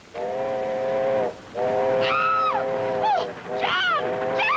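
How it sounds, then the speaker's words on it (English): A steam train's whistle sounds in long, loud blasts, the first two steady, then shorter wavering toots with falling pitch, over a continuous hiss of the approaching locomotive. "There's a train coming!"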